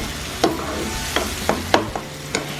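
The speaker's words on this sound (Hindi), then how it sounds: "अच्छे से मिक्स कर देते हैं।" Spices such as cumin powder and dry mango powder fry in a pan for a village-style snake fish masala while a spoon stirs them. About six crisp scraping strokes sound irregularly over a steady, close sizzle.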